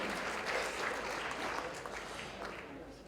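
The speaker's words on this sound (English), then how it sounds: "A round of applause for Patricio." Steady applause from an audience at an Arab engineers' gala for award recipient Patricio, a dense, even wash of clapping that holds for the whole stretch and eases slightly toward the end.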